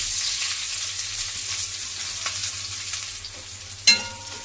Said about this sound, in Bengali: পেঁয়াজটা আমি একটু ভাজিয়ে লম